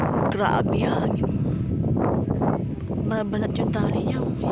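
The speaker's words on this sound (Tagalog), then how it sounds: "Grabe hangin." Strong wind roars and buffets the microphone in a steady broadband rush while someone hauls on a heavy rope, with someone talking loudly over it throughout.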